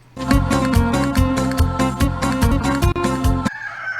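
A rooster crows loudly and close by over steady clucking from several chickens, one of them sick, then the noise cuts off abruptly near the end.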